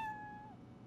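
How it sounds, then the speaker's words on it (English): A single short cat meow from Dragon Quest Builders 2 opens loud and clear, a tonal cry that slides down and fades within half a second over quiet game background. "Oh, look at the kitty."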